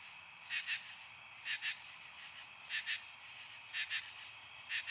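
Soft, evenly spaced double calls of katydids pulse over a steady high insect hum, repeating about once a second at a distance, with no voices.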